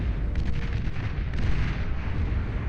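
A commander unit exploding during an 8v8 deathmatch in the strategy game Beyond All Reason: a dense, loud, rumbling blast with heavy low-end roar that keeps going steadily for almost three seconds, no voices.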